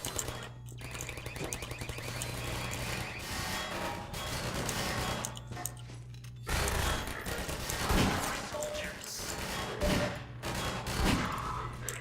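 Automated turret gunfire in the video game Half-Life 2, fast rattling bursts running almost continuously over game noise, with a break partway through before the shooting resumes.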